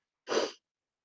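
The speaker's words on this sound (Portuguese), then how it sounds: "mas se eu seguro meu nariz, eu dou espirro" A single short sneeze, close and fairly loud, one quick burst of breathy noise lasting about a third of a second, with silence before and after.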